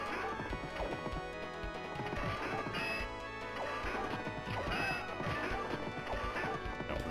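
Hooves pound in a steady gallop from a horse in the arcade game Knights of the Round, mixed with crashing hits, whacks and a busy game soundtrack, loud and continuous throughout.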